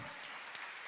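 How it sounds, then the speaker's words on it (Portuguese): A church congregation applauds in a brief, dense burst of clapping that stays even and fills the moment, with no voices over it. "Você pode aplaudir o Senhor?"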